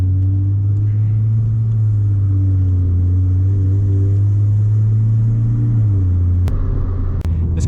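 A loud, steady low engine drone fills the cabin of a Chrysler Crossfire SRT6 track car, holding one pitch for several seconds before shifting slightly, with a couple of sharp clicks near the end.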